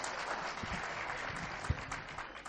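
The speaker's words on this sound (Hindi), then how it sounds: "जनाब परविंदर शोख के लिए जोरदार तालियां।" An audience at a Punjab mushaira in Patiala applauds poet Parvinder Shauk, a sustained round of clapping with a few sharper close claps and a low thump near the middle.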